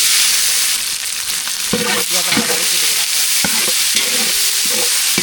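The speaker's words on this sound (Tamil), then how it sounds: "கருவேப்பிலை நல்லா புரிஞ்சிச்சு வெங்காயம் சேர்த்துக்கலாம்" Mustard seeds, curry leaves and onion frying in hot oil in a large pan, a loud steady sizzle and hiss with intermittent scraping and stirring clatters throughout, no voices.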